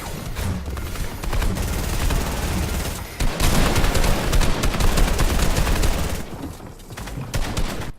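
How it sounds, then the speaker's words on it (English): Rapid bursts of gunfire in the Fortnite video game, shooting out a tree during an FNCS squad finals match, loud and dense with volleys that pause briefly and then resume. "Shoots out the tree"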